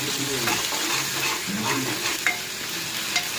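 Prawns fry in a pan for a Godavari-style curry with a steady close sizzle, mixed with repeated soft scraping stirs and a couple of sharper utensil knocks, and no speech.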